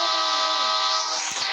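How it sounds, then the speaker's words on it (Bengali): Passenger train pulling into a platform in an Indian train video game, a sustained loud horn-like tone with rumbling low-end shifting near the end, heard alone. "বাবা ট্রেনটা দেখুন ফুল বাংলাদেশি মতনই ট্রেন।"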